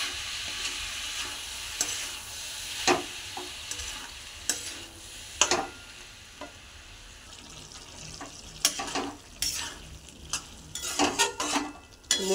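Boiled banana flowers being stirred with potatoes and spices in a pan: a steady low sizzle under repeated scraping strokes of a spatula, with sharper clinks and scrapes clustering toward the end, close and fairly quiet, no voices.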